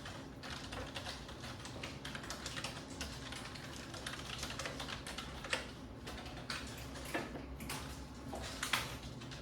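Rapid, irregular keystrokes on a computer keyboard while an Excel IF formula is entered, close and fairly loud, with a few sharper taps standing out and no speech.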